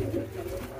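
Pigeons coo close by in a low, soft, rolling murmur that runs continuously through the short moment.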